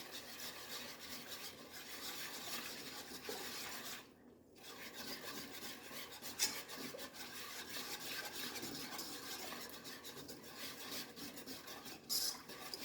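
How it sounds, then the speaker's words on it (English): Barbecue sauce of ketchup and tomato sauce being whisked in a bowl, a steady close scraping and rubbing that runs continuously with a brief pause partway through and a couple of sharper clicks. "And then we're going to whisk it together."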